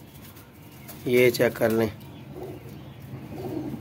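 Caged pigeons coo in a short, soft burst of low, throaty calls close by, set against quiet background noise, while someone speaks nearby.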